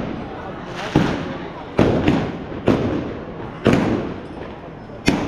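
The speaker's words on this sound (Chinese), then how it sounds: "打了个鞭炮的意思就是说，让客人可以吃饭了" Firecrackers set off at a wedding banquet: a string of sharp bangs and thuds, five or six in uneven succession, each standing out loud over a continuous noisy background of crackling and murmuring guests.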